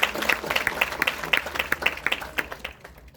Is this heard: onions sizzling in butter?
no